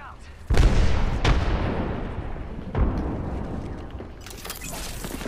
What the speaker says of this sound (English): Grenade out. Frag out.